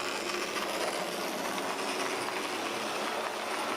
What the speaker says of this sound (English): Let's try some diesel power now. Hornby Class 25.